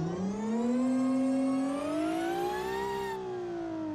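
A supercharged 800-horsepower JXV car engine holds a loud, continuous rev, its whining pitch climbing slowly and steadily before easing off near the end.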